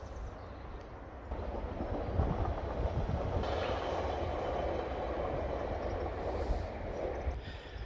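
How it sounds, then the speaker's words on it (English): Train passing by an outdoor garden plot, a low rumble that swells after the first second and holds steady as rail cars roll past, with a faint high squeal partway through. "we're just going to take a pause for a train that's just about to come by"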